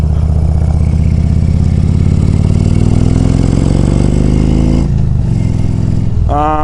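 A motorcycle engine drones loud and close during a ride, its pitch climbing steadily as it accelerates, then dropping near the end before revving up again.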